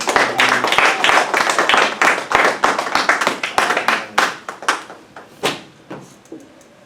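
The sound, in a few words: congregation clapping hands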